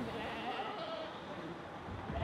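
Sheep on the Tibetan plateau bleat faintly in an open, distant setting, with a few wavering calls rising over a low steady background hiss.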